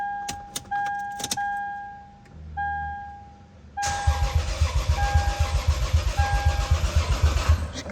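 A 2003 Lexus IS 300 running with no exhaust, a large vacuum leak and the throttle cable unhooked: a few clicks and tones, then the starter cranks in a fast, loud, rhythmic churn that carries on steadily to the end, with no voices.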